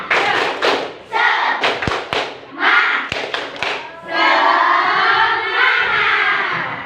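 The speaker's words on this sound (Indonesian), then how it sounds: "Tepuk semangat." Elementary classroom children perform a rhythmic spirit clap in unison, sharp clustered claps and thumps in a patterned beat, then chant and shout together loudly in a bright, close room.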